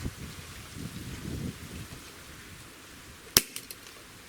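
Single sharp trigger snap on a KWC airsoft 1911 pulled with a Lyman trigger gauge, one brief crisp click near the end after a stretch of low rustling handling noise.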